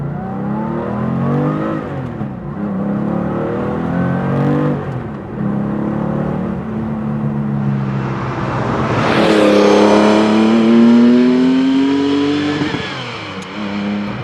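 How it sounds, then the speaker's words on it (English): A modified Porsche 964 engine revs hard and climbs through the gears, pitch rising then dropping at each shift, loud and close from inside. "Let's just do a little run through the gears in this one."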